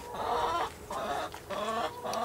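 Chickens in an off-grid coop giving repeated soft clucks in four short bursts, close and moderately loud, with no speech.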